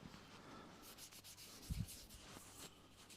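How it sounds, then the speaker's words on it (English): A white web pad rubs wax onto a smoothed wooden mushroom carving while denibbing it, giving a soft, close scrubbing with one brief louder scuff midway. "what I'm doing by using this white web wax is I'm putting wax on, but I'm denibbing at the same time"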